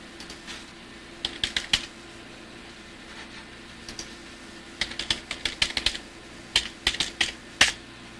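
Keys clatter on the keyboard of a Power Macintosh G4 computer in irregular bursts of quick, close taps separated by short pauses, with a steady fan hum underneath and no talking.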